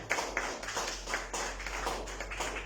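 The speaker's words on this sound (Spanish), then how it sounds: "Denle un fuerte aplauso al Señor." A church congregation at a Thursday general service applauds together, the clapping steady and full, swelling in regular rhythmic pulses with no talk over it.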